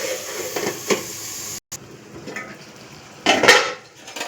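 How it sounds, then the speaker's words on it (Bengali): A metal lid clanks and rattles onto a cooking pot of shukto, a Bengali vegetable dish with fish head, with a few close clinks, a short gap, then a louder settling clatter, amid faint kitchen sizzle and no talking. "তো চলো আমি এখন এটাকে ঢেকে দেবো।"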